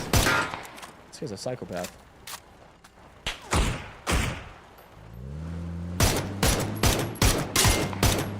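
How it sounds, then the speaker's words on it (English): DMR rifle gunfire in PUBG on the Erangel map, with sharp single shots cracking loudly at irregular intervals and some overlapping bursts, while players talk excitedly over the firing. "We shot him like 5 times. Counted 5 hits with DMRs."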